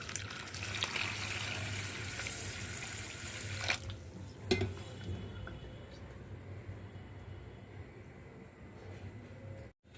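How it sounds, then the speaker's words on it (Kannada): Water pours steadily into a bowl of soaked grains with a half spoon of fenugreek seeds for about four seconds, close and fairly loud, then the stream fades to a quieter trickle and softer kitchen sounds. "ಈಗ ನೋಡ್ರಿ ಇದಕ್ಕೆ ನೀರು ಹಾಕೋಣ."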